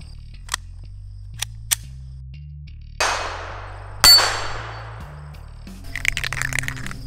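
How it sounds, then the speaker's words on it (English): Shots from a Taurus TX22 pistol strike steel target plates outdoors, giving several sharp cracks and metallic clangs that ring and decay, followed by a rapid rattling burst over a steady low hum. "I'll be putting one shot on each of the plates"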